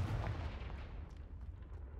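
A Confringo fire spell bursts in the Hogwarts Legacy video game at Rookwood Castle, a dense rumbling explosion with a heavy low boom that decays into a crackling, hissing tail over two seconds.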